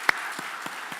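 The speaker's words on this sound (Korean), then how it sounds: "우리 환영의 박수 부탁드립니다." A church congregation at a Sunday morning service gives faint, soft applause of welcome, a quiet patter with a few sharper individual claps standing out.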